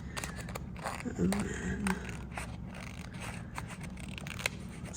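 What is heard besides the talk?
cutting paper with small scissors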